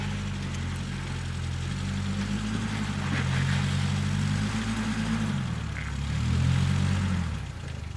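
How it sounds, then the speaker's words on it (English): An off-road vehicle with a stock 22RE engine drives along, its low engine drone steady and close, rising and falling slightly in pitch as the revs change. "That's a stock 22RE motor too"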